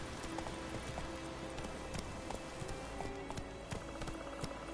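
A horse gallops in The Witcher game, a rapid rhythmic clip-clop of hooves running under a continuous background wash of in-game ambience.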